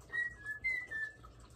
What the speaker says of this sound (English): Do you know how to whistle?